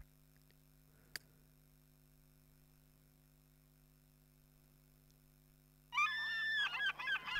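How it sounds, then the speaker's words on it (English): Seagulls call in The Sims 3 Island Paradise video game. After a long near-silent stretch with a single faint tick, a burst of shrill, wavering squawks comes in close and fairly loud. "Seagulls."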